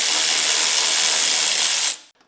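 A ratchet wrench backs out 12mm bolts while a hitch is fitted to a 2018-or-later Honda Gold Wing motorcycle: a close, fast buzzing ratchet clicking for about two seconds, then stopping abruptly.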